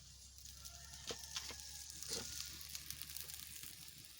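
Turmeric-tinted water hits a hot pan of home-cooked vegetable curry, setting off a steady soft sizzle with a few louder crackling bursts, close and unaccompanied by talk.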